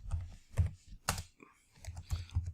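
Typing on a computer keyboard, a handful of separate key clicks and thunks in short uneven bursts, close and fairly quiet, with no talking.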